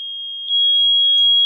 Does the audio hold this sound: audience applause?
no